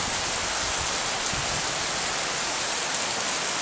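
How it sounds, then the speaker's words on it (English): Heavy rainstorm pouring down steadily, a dense, loud, continuous hiss of rain on surfaces with no letup and no voices. "that is a heck of a rainstorm"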